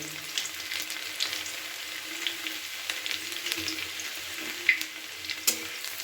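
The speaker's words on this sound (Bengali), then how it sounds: "তেলের মধ্যে দিয়ে দিলাম কিছুটা কালো জিরে এবার কুচিয়ে রাখা রসুনগুলো এর মধ্যে দিয়ে দিলাম" Chopped garlic and nigella seeds fry in hot oil for a rohu fish dish, giving a steady, fairly faint sizzle with a few sharp clicks, heard alone without voices.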